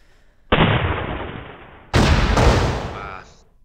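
Two heavy cannon blasts in a cannon video game, each a loud, close boom that bursts suddenly and slowly fades, the second following about a second and a half after the first.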